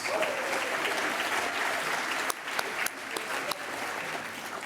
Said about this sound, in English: A round of applause for our sponsors, please.